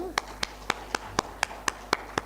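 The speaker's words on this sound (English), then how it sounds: "let's give Dr. Andrew a round of applause" At an academic conference, a single pair of hands claps nine times in an even, steady rhythm, each clap sharp and distinct over a quiet room hum.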